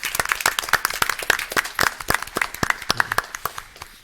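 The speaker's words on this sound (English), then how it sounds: "Brandon, if you'll stand up so we can give you a round of applause for Clean School of the Month" A room at a county school board meeting breaks into steady clapping for a custodian being honored, many pairs of hands close by with sharp individual claps standing out, running for about four seconds with no talk over it.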